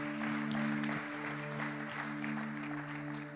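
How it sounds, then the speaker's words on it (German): Applause at a church service in German-speaking Switzerland, a steady wash of clapping from the congregation under a sustained musical drone or organ tone, moderately loud throughout. "geben wir ihm doch einen Applaus"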